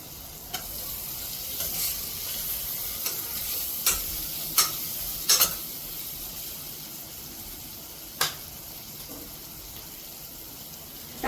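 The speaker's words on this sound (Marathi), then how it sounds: "मसाल्याला थोडंसं एक दोन मिनिट तेलामध्ये शिजू देऊयात" Spice masala sizzles in hot oil for a spicy veg pulao, with a steady soft crackle and several sharp scraping clicks from stirring spaced through the clip, no voices.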